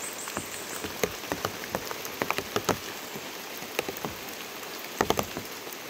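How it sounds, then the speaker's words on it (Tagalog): Rain falls steadily outdoors, with a constant wash of patter and scattered louder drips striking nearby surfaces throughout. "Naulan pa guys."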